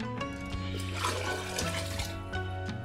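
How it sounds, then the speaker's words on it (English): Lukewarm water poured into measured honey for brewing spiced cherry mead, a steady gurgling, splashing stream running close up and continuously. "We're just gonna add some water to this now."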